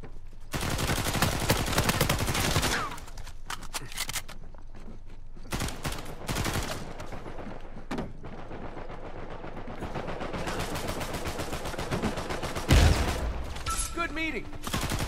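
Multiplayer match in Uncharted 4 with near-constant rapid automatic gunfire, dense bursts of shots, some louder single cracks mixed in, and a player talking intermittently over the shooting.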